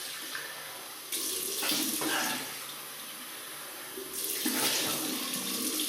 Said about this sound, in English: Right, just rinse my face.